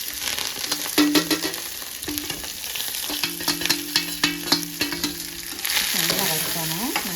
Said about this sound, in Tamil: நல்லா வறுக்கணும்.